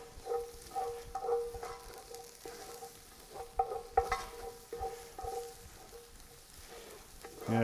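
Tomato puree and onion fry in a pot for smoked brisket chili, giving a steady crackling sizzle with scattered clinks and scrapes of stirring. The sound is moderately close, with no voices.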